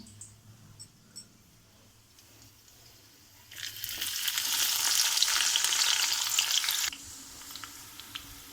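Chopped onion is added to masala for a paneer curry, and a loud, close sizzle bursts up for about three seconds before cutting off, framed by quieter kitchen background.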